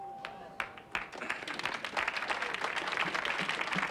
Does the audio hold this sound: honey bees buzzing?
no